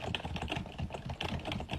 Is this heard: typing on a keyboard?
yes